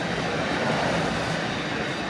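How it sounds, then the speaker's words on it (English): Train number 421 rumbles past heading into town, a steady broadband roar of wheels and engine close by, continuous with no pauses. "Pan sharp, pan in as the train heads into town"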